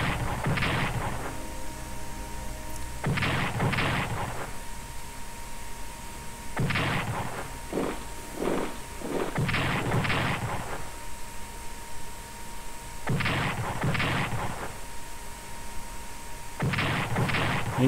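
In a World War I strategy game, artillery cannons fire in repeated booming salvos. Each is a loud burst lasting about a second, separated by gaps of a few seconds, over a constant hum of game background noise.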